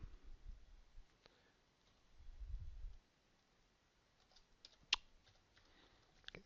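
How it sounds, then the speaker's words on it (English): Faint, sparse keyboard typing on a computer while filling in an email and username, scattered soft clicks and taps with quiet pauses and a single sharper keystroke, no talking. "So let's type a few things in here."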